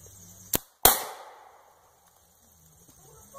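A Lee Enfield rifle fitted with a grenade launcher fires: a short sharp crack followed moments later by a louder blast that rings and fades over about half a second in an open outdoor setting.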